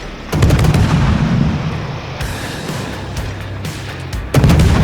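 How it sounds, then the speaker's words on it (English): Heavy naval gunfire from a Gearing destroyer in the game World of Warships, with loud booming salvos at the start and again near the end and rumbling reverberation between them. "So I'm going to continue to blind fire on the Montana, and he's super low at this point."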